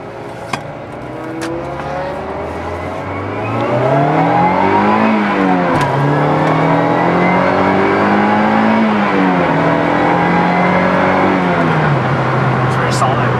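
An NC Mazda MX-5 Miata fitted with a PPF brace drives along with a steady engine drone that rises and falls through the gears, its loud revs rolling up and easing back, heard from inside the car.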